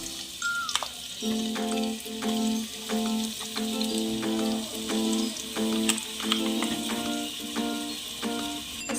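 Onion paste fries in a pan while it is stirred, giving a close, steady sizzle. Quick spoon taps and scrapes recur against a faint ongoing tonal hum, with no speech.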